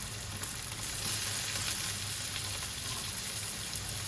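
Carrots and broccoli frying in a pan for vegetable pulao give off a steady, even hiss of sizzling oil that holds at a constant level, with no talking.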